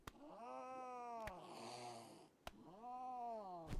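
Cat cries from the video game RimWorld: two long, wavering meow-like yowls with a rougher, hissy burst between them, loud and close with no talking.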